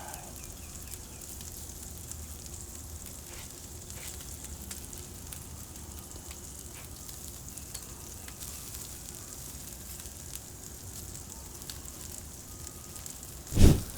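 A NY strip steak and veggie skewers sizzle steadily on a Pit Boss grill over open fire, with a constant close crackling hiss and a brief loud pop or knock near the end.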